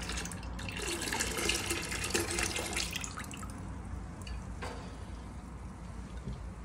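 Traditional Finnish sahti wort is poured into a fermentation bucket, giving a steady, close splashing gush of liquid that eases slightly toward the end.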